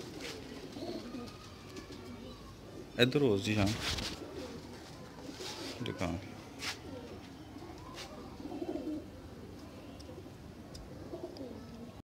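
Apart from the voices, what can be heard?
Sialkoti pigeons cooing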